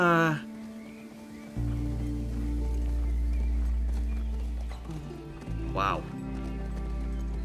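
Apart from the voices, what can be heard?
horse hooves as the player rides in, video game The Last of Us Part II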